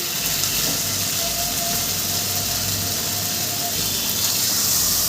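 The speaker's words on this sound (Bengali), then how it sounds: "এবারে আমি এর মধ্যে জল দিয়ে দেবো" Water is poured into a pan of katla fish curry with potatoes being cooked as a thin, light broth, giving a steady, close, rushing splash that runs unbroken for about five seconds with no talking.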